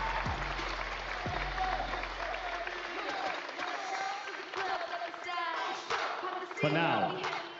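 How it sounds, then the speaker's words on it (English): Bodybuilding show audience applauding for a Classic Physique finals lineup, steady clapping with cheers and shouts under an announcer's amplified voice. "So a round of applause for what you saw on this Classic Physique stage."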